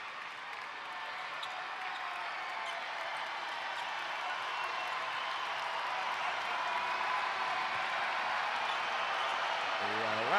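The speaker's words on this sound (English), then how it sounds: "The Robin Center crowd is into it for several reasons." Steady crowd noise fills a college basketball arena at the Robin Center during Old Dominion vs Richmond, a broad continuous roar of cheering and murmur that swells slightly toward the end.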